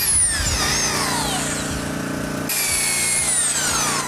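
A power drill runs for several seconds while boring peg holes in wood, the loud close motor whine falling in pitch under load, briefly easing, then spinning back up again.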